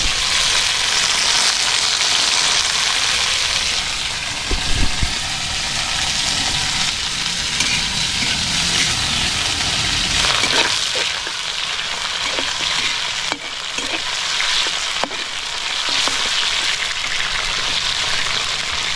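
Mixed vegetables with okra frying in a pan give a loud, steady sizzle throughout, broken by brief clatters and scraping bursts as the pan is stirred.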